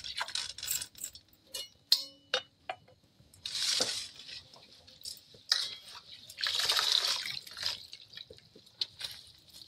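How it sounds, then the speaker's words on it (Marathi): Rice being washed by hand in water in a home kitchen while making chicken biryani, with light drips, sloshing swirls and occasional clinks of a pot, several bursts of splashing through the clip. "स्वच्छ तांदूळ धु मम्मी. तिसरं पाणी आहे."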